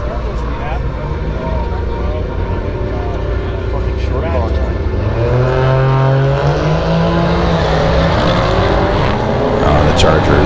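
Race cars at the Tuner Bash 2023 drag event in Alberta, including a white Dodge Charger and a 2J-powered car, idle and then launch with a loud rising roar. A commentator talks throughout.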